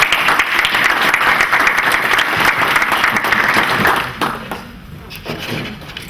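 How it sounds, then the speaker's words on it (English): Audience applause at a 1 Million Cups startup event in Oklahoma City, a dense steady clapping from a room of people that holds for about four seconds, then thins and fades toward the end. "Let's have a quick round of applause."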